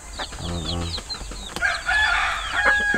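Young native and Basilan mix chickens about two months old cluck and call close by in a backyard, short bursts of layered chirps and clucks.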